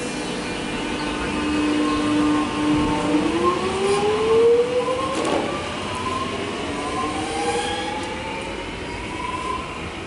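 A Melbourne suburban train departs Epping station with a steady rumble and rising motor whine that climbs in pitch, plus wheel squeal, heard close and alone for ten seconds.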